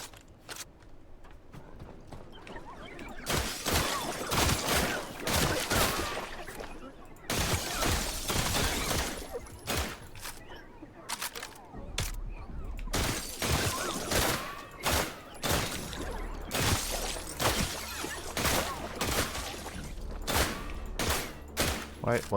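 Bursts of rapid gunfire in the survival video game The Last Caretaker, loud broadband volleys repeating in clusters across the clip, with a low droning hum entering partway through.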